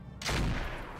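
The Shadowhawk mech fires its weapons in the game RogueTech: a single sharp blast that breaks out of near quiet and then trails off in a rumbling decay.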